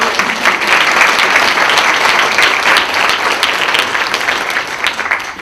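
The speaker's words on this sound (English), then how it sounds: "first let's give a round of applause for our" An audience at a medical residency and fellowship ceremony gives a round of applause, a loud, dense and sustained wash of clapping hands that holds steady throughout.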